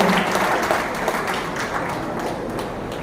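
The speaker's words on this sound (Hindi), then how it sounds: "एक बार जोरदार ताली के साथ इनका प्रोत्साहन करें।" An audience at a scholarship distribution ceremony claps loudly in a dense, continuous burst of applause that fills the room evenly for a few seconds.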